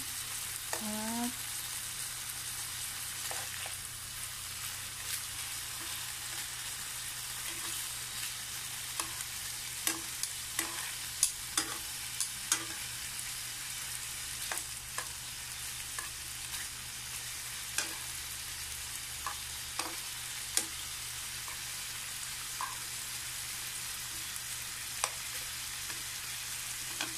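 Chicken fries gently in a pan over low heat, a soft steady sizzle running throughout with occasional sharp pops and spatters, close by.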